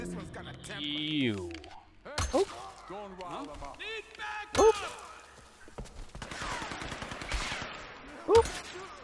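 Enemies fire guns in Tomb Raider (2013), with several sharp shots and short bursts scattered among game effects while a person talks over them.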